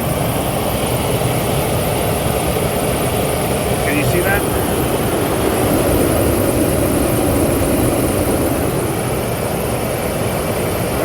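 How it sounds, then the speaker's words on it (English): A car engine with a misfire idles close by, a steady rough drone with an uneven shake that runs the whole time while a person speaks briefly over it. "Well, definitely got a misfire or something going on."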